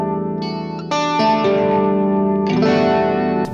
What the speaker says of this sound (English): it's basically a chorus type sound